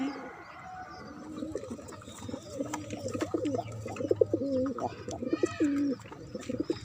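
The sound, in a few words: pigeons cooing on a rooftop garden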